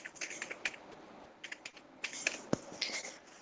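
Scattered, quiet clicks of a computer keyboard come in short irregular bursts with brief pauses, close by and with no voice.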